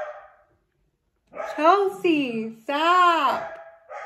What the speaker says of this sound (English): I don't know why they're keeping barking